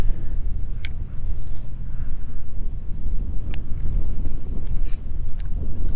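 Steady gusting wind buffeting the microphone outdoors on a fishing trip, a loud low continuous rumble with a few faint clicks and no speech.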